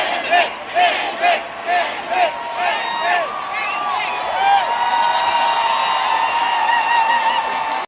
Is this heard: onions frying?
no